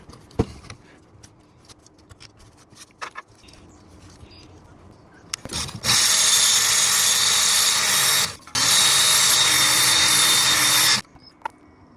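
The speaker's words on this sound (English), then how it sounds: "The nice thing about this sharpener is it's really fast and effective." A powered knife sharpener grinds a blade in two loud, sustained passes of a few seconds each, a harsh, steady abrasive whine separated by a brief pause, preceded by quieter handling clicks and taps.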